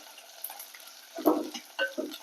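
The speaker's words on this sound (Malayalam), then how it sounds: "ഇതൊക്കെ കൂടെ നന്നായിട്ട് വറുത്തെടുക്കുക" Onions and grated coconut sizzle softly in a pan for a tamarind curry while a utensil scrapes and stirs in a few short bursts, close by.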